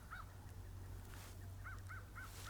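Several distant crows caw in short repeated calls, a lone one early and then a quick series of four, faint over a low steady rumble outdoors in a cold, icy setting.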